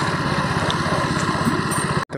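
A KTM RC200 motorcycle engine drones steadily at close range, with a throbbing rumble and a mid-range buzz, before cutting out abruptly near the end and returning briefly.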